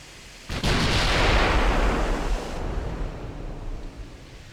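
Heavy naval gunfire from a battleship in Ultimate Admiral Dreadnoughts, a single loud booming blast that rolls into a long rumbling decay, with no voices over it.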